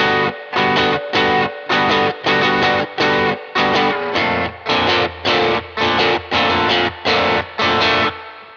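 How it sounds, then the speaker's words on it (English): Electric guitar on the bridge pickup with overdrive distortion, strumming a chord progression in choppy, evenly spaced stabs with short silences between, loud and close, math rock rhythm exercise. "get on that bridge pickup, whack on some overdrive, distortion, whatever you like"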